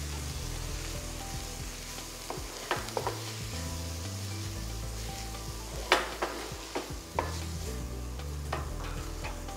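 Peanut butter sesame noodles stirred and fried in a pan, with a steady close sizzle under repeated scraping and clinking stirring strokes throughout, no voices.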